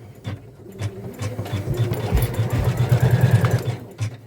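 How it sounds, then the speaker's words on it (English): A sewing machine stitching quilting on a pieced project, running in a steady close mechanical whir with rapid needle chatter that speeds up and then slows to a stop, loud and alone. "I'm excited to see this do some quilting."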